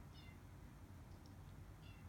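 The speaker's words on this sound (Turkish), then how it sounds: "Kanepenin arkasına girmiş altına. Oradan miyavlıyor." A cat meows from behind a couch in a home, giving two faint, muffled, short meows over a low background hum.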